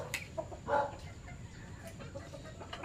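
A chicken clucks close by, with a few short throaty calls over steady background noise and some scattered bird sounds.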